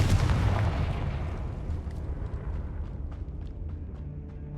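In Hogwarts Legacy, a Confringo spell explosion in the game lands with a loud, deep boom, then a long rumbling decay that fades over several seconds, with no talk over it.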